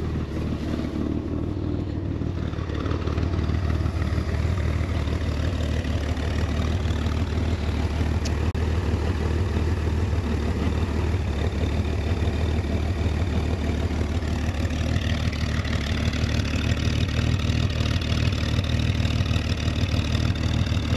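A 1966 Chevrolet Corvair Monza convertible's engine idling, a steady, even, low rumble held close and unbroken for about twenty seconds with no voices over it.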